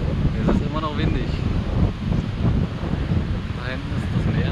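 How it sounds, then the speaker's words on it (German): Wind gusts across a beach at Fort Lauderdale, Florida, rumbling into the microphone as people talk nearby, with faint surf behind. "Es ist immer noch windig."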